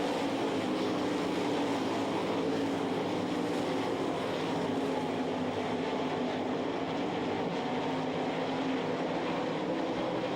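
Sprint cars race wheel to wheel on the backstretch at the Knoxville Nationals speedway, a dense, continuous engine roar that holds steady and loud throughout, with no voices.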